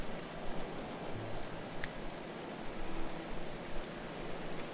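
Rain falling in the medieval colony-building game Going Medieval, a steady soft hiss of rain with light patter, continuous and moderately loud, no talk.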